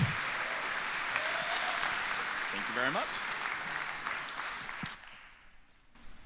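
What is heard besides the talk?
audience applause for conference speaker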